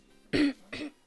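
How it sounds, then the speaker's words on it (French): Two short coughs, the first louder, with a brief pause between them. "Désolé, mais je tousse."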